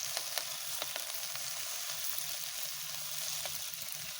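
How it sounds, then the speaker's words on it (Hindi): Watercress greens frying in spice masala give off a soft, continuous crackling sizzle, with occasional faint stirring ticks and no voices. "पहले थोड़ा सा साग डालें, इसको मसाले में मिक्स करें"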